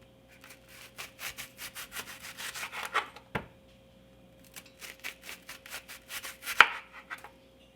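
Knife chopping an onion on a wooden cutting board while cooking vintage American goulash, with two bursts of rapid, close, crisp rhythmic cuts, each ending in a single louder thud.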